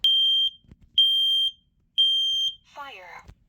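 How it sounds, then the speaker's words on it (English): A household smoke alarm under test gives three long, loud, piercing beeps in a steady temporal pattern, followed by a brief synthetic voice announcement. "let's get back into the smoke alarm testing."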